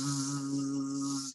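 A person's voice imitates a bee with one steady, sustained buzz lasting over a second, close and clear, stopping abruptly.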